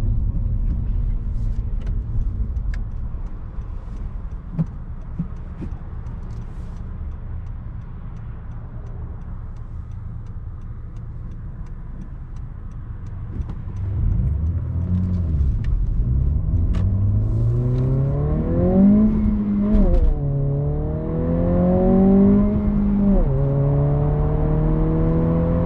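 A new Honda Civic Si idles with a low rumble and soft ticking, then pulls away and accelerates hard through several gears, engine pitch climbing and dropping at each shift, close and loud.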